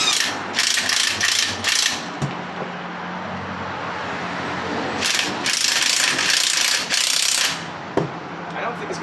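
A spring compressor tool squeezes Pontiac Fiero strut springs, giving loud, close bursts of rapid ratcheting clicks in several runs, with a duller mechanical grind and a sharp knock between them.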